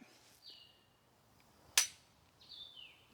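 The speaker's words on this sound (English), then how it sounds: "That click right there." A single sharp, dry mechanical click of a rifle trigger being dry-fired stands out against a quiet background, with faint chirps before and after.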